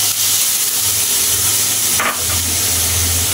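Steamed cauliflower, potato and onion stalks tipped into a hot pan for frying, producing a loud, steady hiss and sizzle with a brief clatter midway, close and continuous without speech.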